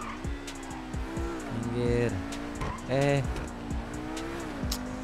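Sports car engine in GTA Online revving and shifting as it drives, with rising and falling tones and brief tire screeches, heard under someone talking throughout.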